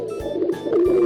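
A pigeon gives low, throaty coos that swell and fade over a bright children's song backing, lasting about a second.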